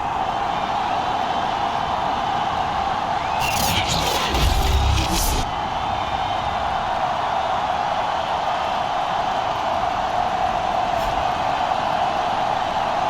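Stadium crowd in Madden NFL 22 before a Falcons–Eagles game, a continuous loud roar of a sellout crowd with a brief cheering swell in the middle, no voices on top.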